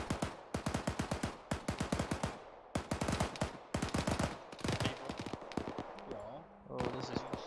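Rapid automatic gunfire in the video game Arma 3 plays in long bursts, loud and dense, with players talking over it.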